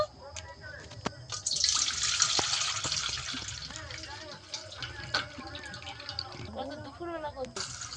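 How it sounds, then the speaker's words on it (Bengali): Cut raw mangoes for jam are washed in fresh water, with splashing and sloshing close by, pouring strongest early on and then easing into intermittent swishes and drips while a person talks. "আমগুলো সব কেটে নিয়েছি এবারে জল পাল্টে ধুয়ে নেব"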